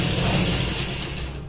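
A sewing machine stitches along the paper-backed edge of a suit neckline, giving a steady, close mechanical whir with fast rattling needle clatter that runs evenly throughout and fades slightly at the end.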